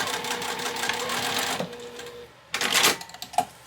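A sewing machine runs a basting stitch along the outside of a fabric pouch, a steady close mechanical whir that stops briefly, then resumes in a short burst.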